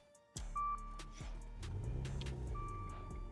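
A Maserati Ghibli S Q4 engine idles normally with a low steady rumble after a starting thump, and a couple of soft electronic chimes sound over it.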